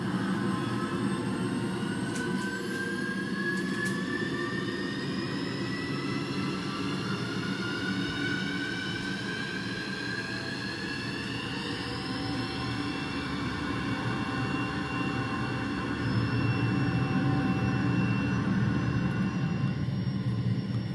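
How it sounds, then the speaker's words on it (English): A simulated F-16 jet engine settles to idle after startup in a flight simulator, a continuous low rumble under several slowly rising whining tones that sweep upward, steady and unaccompanied by voices. "hitting idle and moving throttle into idle position to complete the engine startup"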